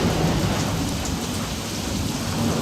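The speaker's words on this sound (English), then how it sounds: "it is raining and it is pouring outside" Heavy rain pours down outside as a dense, continuous, loud hiss with deep rumbling underneath, steady throughout with no voices.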